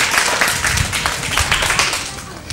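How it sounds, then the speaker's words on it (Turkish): A group of children clapping together at a Love Day episode of a children's TV show, a fairly loud, dense patter of hand claps running steadily throughout. "Kocaman bir alkış."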